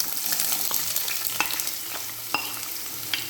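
Shallots sizzle and fry in hot coconut oil in a kadai for a Malayalam pearl spot pollichathu, a dense steady crackle with sharp spatter pops and a few stirring scrapes, close and loud with no voices.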